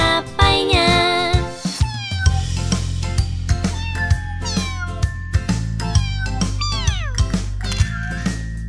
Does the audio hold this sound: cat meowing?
yes